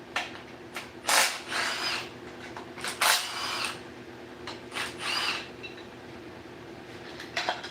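Tools working bolts loose on an engine bracket during a Tahoe engine teardown, giving intermittent metallic clicks, ratcheting and scraping bursts at close range, with quiet pauses between the bursts.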